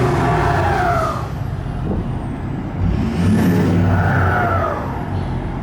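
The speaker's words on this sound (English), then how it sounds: "That noise you're hearing is just the turbocharger," A turbocharger whines high above the loud, steady diesel rumble of a 2012 Ford F350 Super Duty Dually Lariat Powerstroke, its pitch rising and falling.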